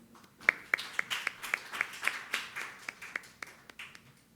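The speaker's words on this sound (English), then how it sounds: "So please give a big round of applause." Applause for a speaker at the Korea-Eureka Innovation Forum. Distinct claps come at a fairly regular rhythm, sparse and not a dense crowd roar, with moderate loudness throughout.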